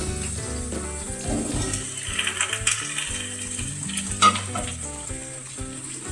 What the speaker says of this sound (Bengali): কেটে রাখা ঢ্যাঁড়স আমি এর মধ্যে মিশিয়ে দেব